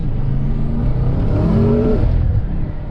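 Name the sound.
BMW M5 engine revving after Shiftech tune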